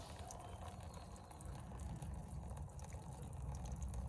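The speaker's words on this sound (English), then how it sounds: "Well, it's got water coming out and I don't have the water pump on." Water runs steadily from a pipe at a rural property after a freeze, with the water pump switched off; a continuous low rushing flow, fairly close and even, with no talk over it.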